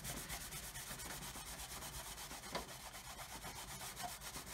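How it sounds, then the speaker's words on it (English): Steady, faint, close rubbing as a wet paper towel wipes tape residue off a 1/200 scale Titanic model hull, a continuous scrubbing texture with soft repeated strokes. "then you should find that when you rub it"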